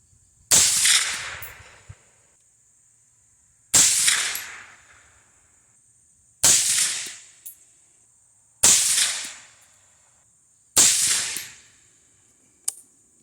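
A Bear Creek Arsenal 18-inch 223 Wylde rifle fires PPU 62 grain M855 ammunition at a range: five loud, sharp shots spaced about two to three seconds apart, each with a brief decaying report.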